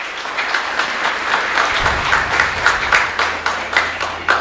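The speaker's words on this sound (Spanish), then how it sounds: "pido para ellos también un fuerte aplauso" A congregation applauds during a live Mass at a chapel in Ñemby, a loud, fairly steady patter of clapping with some rhythmic pulsing.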